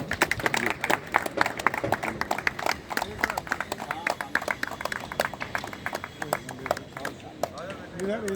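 Audience clapping to welcome a new secretary at a Gandhi Jayanti gathering in a residential complex, sustained uneven hand claps from a modest group, with voices talking over them.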